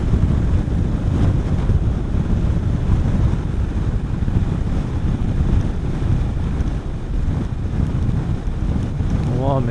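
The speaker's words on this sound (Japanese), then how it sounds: "ちょっと風が強いな。" Strong wind roars across the microphone of a motorcycle riding the Seseragi Kaido road in Gujo, Japan, a constant loud buffeting rumble with no break.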